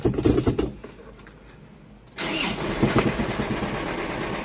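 An Isuzu 4JB1 truck engine cranks and catches, settling into a steady, fairly loud running rumble with a rough mechanical rattle underneath from a noisy transmission.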